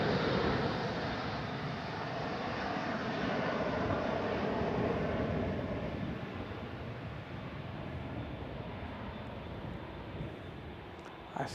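An Airbus A350 airliner on short final at San Francisco airport, a broad steady jet roar that holds loud and even, then eases slightly toward the end.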